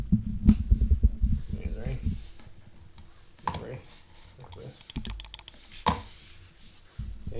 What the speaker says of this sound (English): Not gonna lie, I built this keyboard yesterday